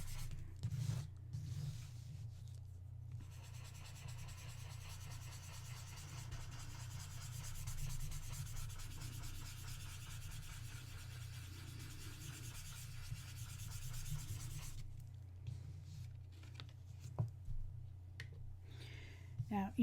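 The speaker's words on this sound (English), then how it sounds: "I'm really pushing that graphite into the paper." Graphite pencil pressed hard and rubbed on paper, a steady scratchy scraping that runs throughout over a low background hum, fairly close and moderately quiet.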